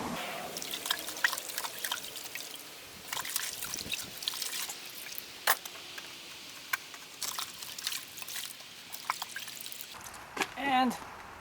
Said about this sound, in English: See how I'm rinsing these mats out?